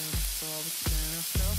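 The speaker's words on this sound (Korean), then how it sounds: "지글지글해져요." Butter sizzles in a hot pan with a constant bright crackling hiss. Sharp bursts recur about every half second, and tonal layers run through the sizzle.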